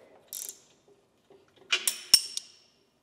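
Metal port fittings on a vacuum chamber are tightened by hand, giving a few sparse clicks and ratcheting ticks followed by a short cluster of sharp metallic clanks, close and otherwise quiet.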